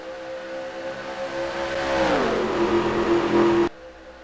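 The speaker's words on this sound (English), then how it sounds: "Getting up through the gears" Race car engine in a Daytona 500 racing video game, a steady droning whine that climbs in pitch as it accelerates, then drops through a gear change before cutting off abruptly.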